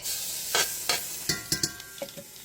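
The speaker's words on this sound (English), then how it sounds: "I'm going to saute the carrots, onions, and garlic in olive oil until the onions are translucent and the garlic is aromatic" Carrots, onions and garlic sauté in olive oil, a steady sizzle broken by a series of scraping stirs that come in quick bursts and then trail off into lighter taps.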